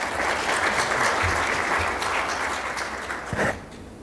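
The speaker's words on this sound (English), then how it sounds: "We'd all like to give David a round of applause." An audience at the Western Balkans Summit 2024 applauds, a dense wash of clapping that holds steady and then begins to thin out near the end.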